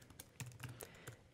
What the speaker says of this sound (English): I alt-clicked it, and I typed in a wiggle expression